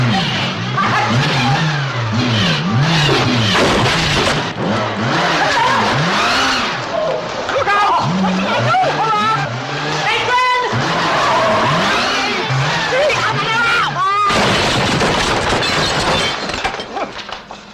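A car drives away in a 1963 comedy film scene, its engine revving and tires squealing and skidding in swooping bursts, with crashing and clattering noises mixed in and occasional voices.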